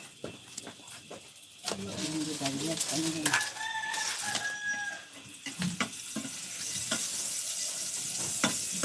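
Chili peppers frying in a pan for a Bangladeshi mashed dish, a steady sizzle with stirring scrapes and a few sharp knocks, while people talk nearby and a rooster seems to crow in the background.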